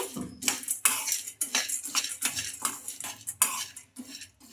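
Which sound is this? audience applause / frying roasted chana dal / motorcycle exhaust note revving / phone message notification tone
frying roasted chana dal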